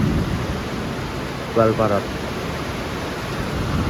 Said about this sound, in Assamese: ইমান ডাঙৰ বৰষুণ